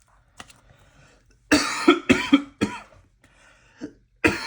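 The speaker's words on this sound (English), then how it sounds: "A bit of a cough." A person coughs in a close, dry burst of several quick hacks, then a pause and a few fainter throat-clearing coughs, with a final cough at the end.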